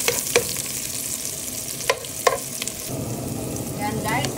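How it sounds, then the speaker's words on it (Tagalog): Garlic sautéing in a pan, a close crackling sizzle with a few sharp scraping stirs, the frying swelling louder toward the end, no speech. "mag-igisa tayo ng bawang"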